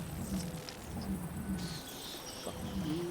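Rain in a video game, a dense, steady hiss of falling drops with low rumbling underneath, continuous and fairly loud throughout.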